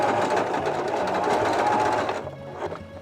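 A sewing machine runs steadily and close while stitching a hat lining for a Capster-style hat, a fast continuous whir that slows and stops near the end.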